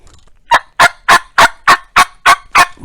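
A turkey call imitates turkey yelping, giving nine evenly spaced, loud, close raspy yelps in a steady rhythm after a short quiet lead-in.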